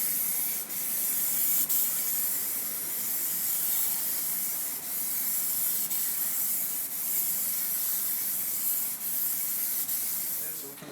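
Plasti-Dip sprayed from an aerosol can as a first coat onto a car wheel and tire, a steady close hiss running the whole time with brief breaks between passes.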